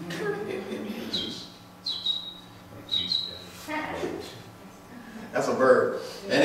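A person imitates a cricket with a few short, high chirping squeaks that sound more like a bird, spaced about a second apart, with speech and room noise in between.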